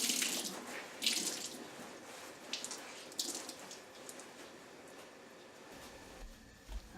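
Water runs and splashes into a pot set up for dyeing fabric, a steady rushing pour with a few louder gushes, close and unaccompanied by speech.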